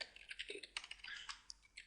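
Quick, light keystrokes on a computer keyboard, an irregular run of soft clicks and taps heard close up in a quiet room.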